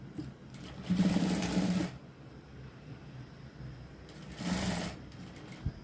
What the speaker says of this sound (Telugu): ఈ మార్కింగ్ని ఈ విధంగా పట్టేసుకొని టక్స్లు అనేది కుట్టుకోవాలి